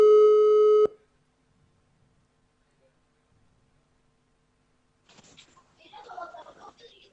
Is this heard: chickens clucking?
no